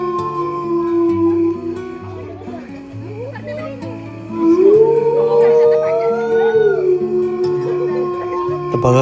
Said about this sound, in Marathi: कसा कोल्ह्याचा आवाज येत आहे आपल्याला